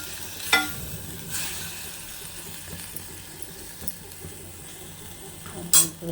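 Dal pulp goes into a hot tempering in a pan for peppery rasam, giving a soft, steady sizzle. A couple of sharp utensil clinks come near the start and end.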